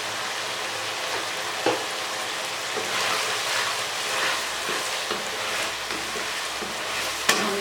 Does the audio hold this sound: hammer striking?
no